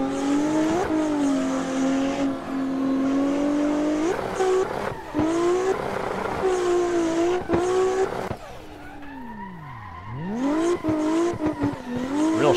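A car slides through a corner in a racing simulator drifting game, its engine revving and falling in waves while tires squeal, with a long pitch dip as the revs drop and climb again; no talk.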